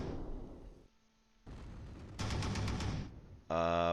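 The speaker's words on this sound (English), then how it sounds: "We are taking mortar fire." Mortar and small-arms fire in the WWII strategy game Close Combat III, Korsun Pocket battle: distant rumbling detonations build into a loud crackling burst of shots, ending in a sharp, heavy blast, with no voices.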